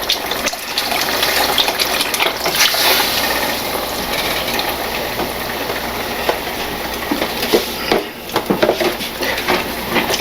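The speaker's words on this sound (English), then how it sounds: "Now, I'm using a thing of beef broth." Beef broth poured into a sizzling steak stir fry, a steady gushing, hissing wash of liquid hitting the hot pan, close and fairly loud with a few brief clatters.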